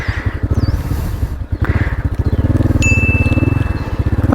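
A motorcycle engine idles and then revs as the throttle is opened during a riding lesson, a loud pulsing close-up thrum that surges and holds, with a brief bell-like ding.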